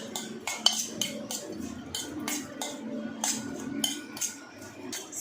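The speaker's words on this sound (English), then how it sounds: "I'm going to mix all of this in, taste it, and see what else I need to add." A spoon scrapes and clinks against a bowl while a cheese mixture is stirred, giving a close, irregular run of small metallic taps and scrapes with a soft hum of kitchen background behind it.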